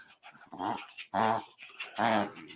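A dog whimpers and growls in three distinct drawn-out vocal bursts, close and fairly loud, with short pauses between them and no talk over them.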